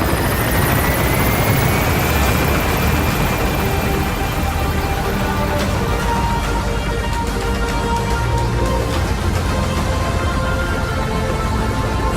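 A helicopter in Metal Gear Solid V lifts off from Mother Base and gains altitude. Its rotor and engine roar loud and close, with a rising whine at the start, and then settle into a steady drone.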